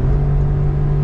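A Honda Z kei car's engine runs at 4,000 RPM in third gear at around 70 km/h, a steady, close droning hum with a rumbling low end and no talk.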